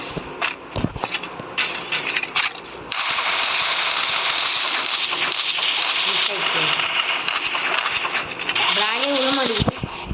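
Rapid SKS rifle fire rattles in sustained bursts in the Free Fire video game, mixed with mechanical game effects, while a player talks over the action.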